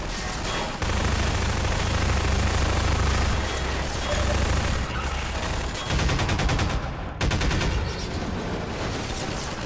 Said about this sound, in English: the audio for the gun for the victims is really meaningless, I guess